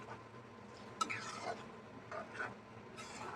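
A spoon stirs spices into a shrimp curry in a pan, with soft scraping and rubbing strokes at a gentle pace, a sharp clink near the start and a faint sizzle underneath.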